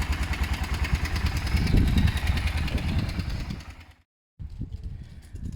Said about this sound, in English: I'm gonna leave it idle for a few minutes.